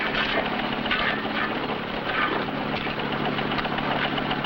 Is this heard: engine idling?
yes